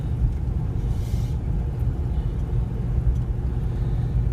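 A 2011 Ford Crown Victoria Police Interceptor with 133k miles pulls out onto a main road and gathers speed. Its engine sends up a steady, close, low rumble and road drone that holds throughout, with no talking.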